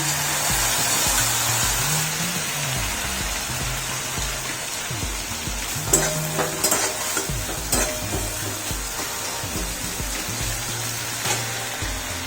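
A spice mixture sizzles with fried potatoes in a pan while a spoon stirs and scrapes repeatedly, with occasional clanks against the metal and a continuous close frying hiss.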